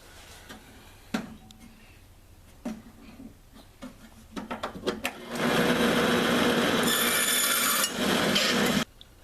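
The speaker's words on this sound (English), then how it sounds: "I like to cut these at the bandsaw" A bandsaw cuts a 1/4-inch wooden dowel rod to a 2-inch length in a woodshop: a few scattered clicks and handling taps, then a loud, steady buzzing cut lasting about three seconds before it stops.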